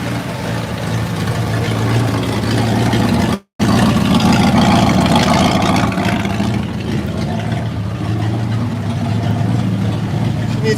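A Ford Maverick engine idles, a steady low rumble that runs throughout, with a brief dropout of sound partway through.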